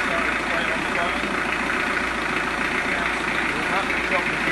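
A brand new narrowboat engine idles with a constant, even chug, loud and close, its low rhythmic throb holding steady without revving or pauses.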